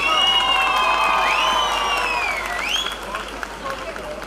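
A crowd at a mall anniversary event applauds, with a steady wash of clapping and cheering voices and some high whistling, loud and continuous before easing slightly toward the end.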